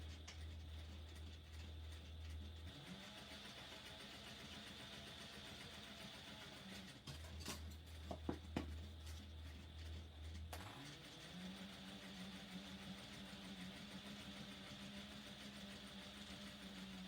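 A sewing machine runs in steady mechanical hums, pausing briefly and restarting as it stitches back and forth for a few stitches, faint and alone.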